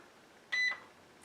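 A Magical Butter Machine gives one short, clear electronic beep while its timer is set during a peppermint liqueur batch, heard close in an otherwise quiet room.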